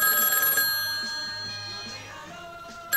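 A telephone rings in a television studio during a live broadcast, a steady bright electronic trill that fades gradually over a few seconds, with faint voices in the background.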